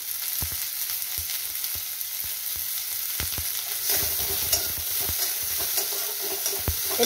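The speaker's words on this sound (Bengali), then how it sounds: "একটু এটা ভাজা হোক।" Chopped onion and turmeric fry in a pan with a steady crackling sizzle, broken by occasional sharp clicks and scrapes of stirring, close and without talk.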